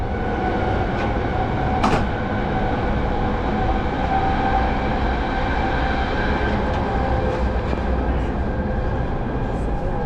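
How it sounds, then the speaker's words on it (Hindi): Cabin noise from inside a high-speed train in Turkey running at about 190 km/h, a steady loud rolling rumble and rush with faint clicks and rattles throughout. "ये तो ये है हाई स्पीड ट्रेन"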